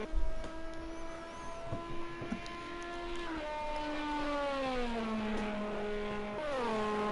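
Race car in Project CARS 2 at Le Mans lapping during a league endurance race, a loud sustained engine drone whose pitch drops as it passes, then climbs and falls again through gear changes, with no talk.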